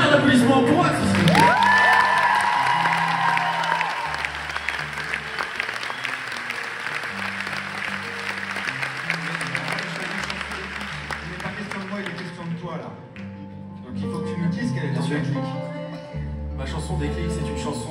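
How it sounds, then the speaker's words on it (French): A concert crowd at the Francofolies festival applauds and cheers with scattered whoops, loud and sustained for the whole stretch, with a short dip before it swells again. A band plays low notes under the noise. "faites un tonnerre d'applaudissements pour moi."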